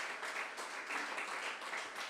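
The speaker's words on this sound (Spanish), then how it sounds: "Regálele fuerte esa ofrenda de aplauso" A church congregation applauds steadily, a dense continuous wash of clapping held at an even level without voices on top.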